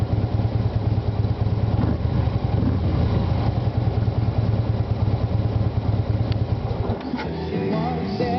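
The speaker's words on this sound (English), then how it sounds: "We've heard the motorcycle enough." A 2014 Harley-Davidson Street Glide FLHX engine runs steadily up close with a deep, throbbing rumble for most of the time, then drops away near the end as it is shut off.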